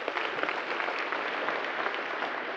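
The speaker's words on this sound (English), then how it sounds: "So a big round of applause for that group." An audience at a talk breaks into warm applause, a dense, even wash of many hands clapping at once, sustained briefly with no voices over it.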